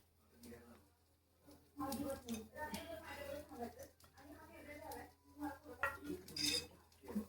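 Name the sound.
adding paneer to a pan of curry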